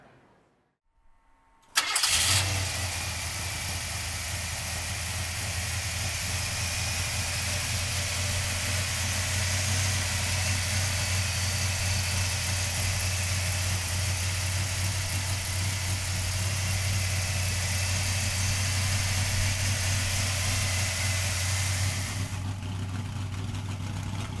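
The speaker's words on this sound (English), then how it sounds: "So come on up and we'll fire it up" A 1954 Ford F100 pickup's engine cranks and catches after a short quiet moment, then settles into a loud, steady idle close by before cutting off at the end.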